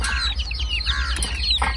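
Chickens in a village yard cluck in short bursts with bird-like chirps mixed in, close and fairly loud over a low steady hum, with no talk.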